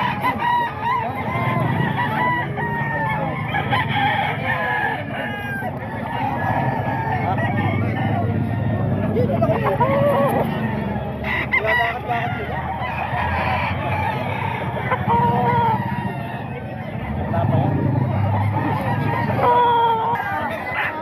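Several roosters crow repeatedly, fairly close, over a steady background of clucking fowl and bustle at a gamefowl sale, with occasional voices mixed in.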